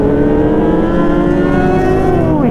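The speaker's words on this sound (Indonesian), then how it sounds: "Bacot banget loh knalpotnya." Loud, close engine of a sport motorcycle on a group morning ride with Ninja H2, ZX10R, Ducati and R6 bikes, a steady droning exhaust note holding pitch then dropping as it eases off, with no talking.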